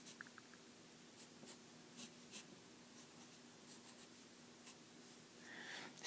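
A pencil scratching across paper while math problems are worked out, soft intermittent strokes that are faint and close, with no voices.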